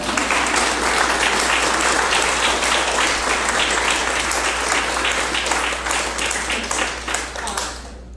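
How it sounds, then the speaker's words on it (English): Loud, sustained applause fills the room at a youth disability forum, a dense continuous clatter of many hands that holds steady for several seconds before tapering off at the close. "I would like an applaud for my mom"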